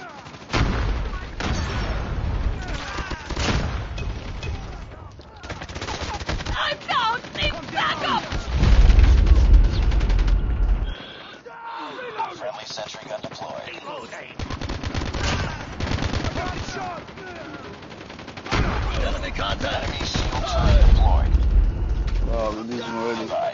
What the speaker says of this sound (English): Let me try this gun.